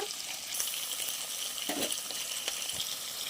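Mustard and cumin tempering seeds with onions hitting hot oil in a pan, a steady hiss and sizzle with faint stirring scrapes, fairly quiet and close.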